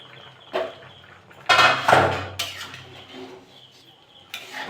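A metal wok clanks onto a stove and a lid is set over it while khichuri cooks, giving a few sharp close metallic knocks and rattles with quiet pauses between them.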